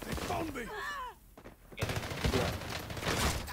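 Gunfire in the video game Call of Duty Warzone, shotgun-heavy combat: bursts of shots under a speaking voice, a brief lull, then renewed sharp reports mixed with chatter.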